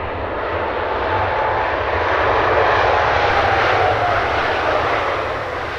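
An aircraft departing London Luton Airport gives a loud, sustained jet engine roar that stays steady and close throughout, with no voices.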